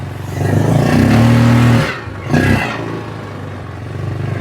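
A UTV engine revs hard on wet ground, holding a loud, rising roar for over a second before a brief dip and a second, shorter burst of throttle, then settling to a lower rumble.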